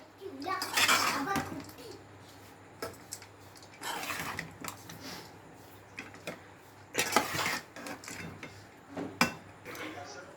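Chennai-style tamarind rice is mixed in a metal pot, giving irregular bursts of clinking and scraping from a spoon against the pot, with quieter stretches between the bursts.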